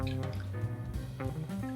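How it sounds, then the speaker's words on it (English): A tequila old fashioned poured over a block of clear, tempered ice in a glass: a close, continuous liquid trickle and splash that runs steadily for the whole short stretch. "And then we'll simply pour the cocktail over that."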